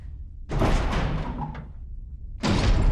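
A door in the Resident Evil video game opens with a loud, heavy thud and scrape, followed by a second abrupt bang about two seconds later over low ambient rumble.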